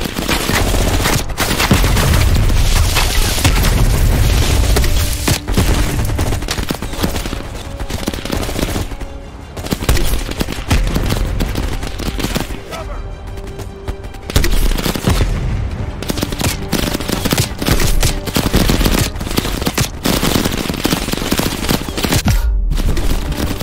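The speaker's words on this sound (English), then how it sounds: "you woke up in the middle of a firefight" A chaotic Call of Duty: Black Ops Cold War firefight at a crash site, with loud, continuous machine-gun bursts and booming explosions rolling almost without pause, broken by a few brief lulls.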